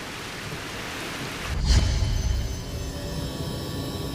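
Steady heavy rain hisses throughout, with a low rumble of thunder swelling briefly partway through before the downpour continues evenly.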